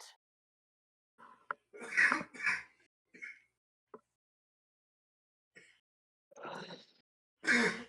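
Scattered bursts of coughing and throat clearing, several separate fits with quiet gaps between them, close and fairly loud.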